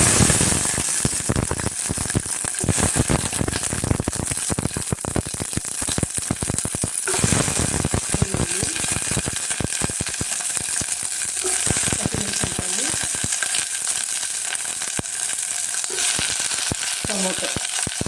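Sliced onion hits hot oil in a pot and fries with a loud, continuous sizzle, crackling and spitting throughout, with scraping stirs in the middle and the hiss easing slightly toward the end.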